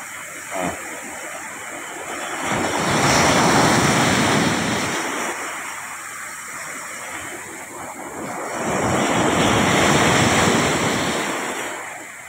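Sea waves break on a beach with a strong current, two long surges of surf swelling and fading in turn amid gusting wind, loud and near, with no talk.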